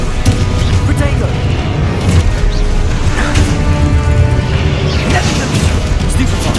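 Expulso and Confringo blasts in Hogwarts Legacy combat, a dense run of booming, crashing spell impacts over steady loud game music and noise.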